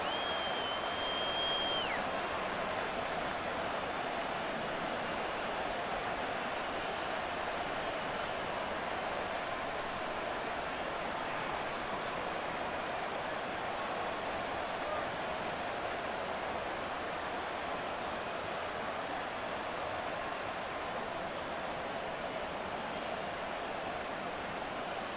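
Steady rain falls throughout a Madden 24 NFL football match between the New York Jets and Arizona Cardinals, a constant even hiss with no talk, briefly marked by a faint tonal whistle at the start.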